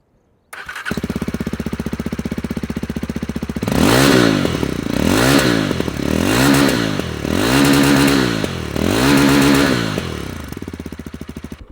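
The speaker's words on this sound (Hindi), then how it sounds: "आपको इस मोटरसाइकिल का एग्जॉस्ट नोट सुनाता हूँ" A Yezdi Adventure motorcycle's exhaust sounds close up, first a steady idle, then a series of five rhythmic throttle blips rising and falling, loud and alone without talk.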